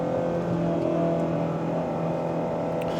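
A Shelby GT350R's engine droning steadily from inside the car as it accelerates, a loud continuous low hum with tonal layers and no talking.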